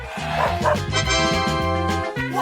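A dog barks and yips in a rapid, loud, repeated series of tonal calls close by, with no talking.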